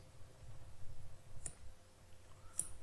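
Two faint, sharp computer mouse clicks, well apart, against a quiet background hum.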